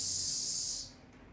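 A voice makes a long, loud hissing s sound imitating air escaping from a deflating balloon, holding steady for most of a second before cutting off into quiet.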